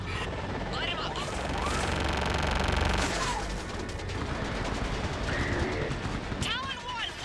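Dense air-support gunfire and explosions in Mass Effect 3 roll on continuously over a low rumble, with radio-style chatter and whooshing effects layered on top.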